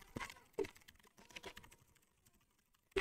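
A computer keyboard is typed on in quick, faint irregular clicks, close and alone, with a sharper keystroke at the very end.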